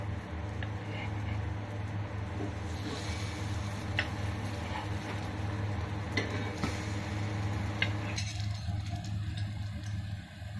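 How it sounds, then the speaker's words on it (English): Yam (suran) cutlets fry in oil on a flat tawa, giving a steady soft sizzle over a constant low hum, with occasional faint clicks and taps. "We are going to fry this one in tawa"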